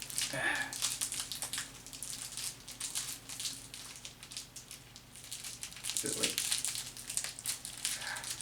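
Sticky plastic film peeled and crinkled off a MagicYoYo V3 yo-yo, close crackling and rustling throughout, with louder bursts at the start and near the end.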